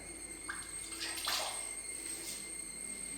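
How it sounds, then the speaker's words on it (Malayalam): Four garlic cloves are rinsed under running tap water in a home kitchen, a soft steady trickle with brief splashy bursts as the cloves are rubbed, fairly quiet and close. "നാലല്ലി വെളുത്തുള്ളിയും കൂടെ നമുക്ക് കഴുകിയെടുക്കാം"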